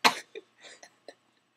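A man imitates an emo smoker's cough with his voice: one loud, harsh hacking burst, then three shorter, weaker coughs spaced apart, close up.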